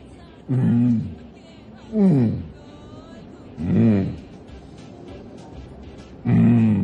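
A voice imitates a lion's roar in four separate bursts, each a rough, rising growl with pauses of quiet in between.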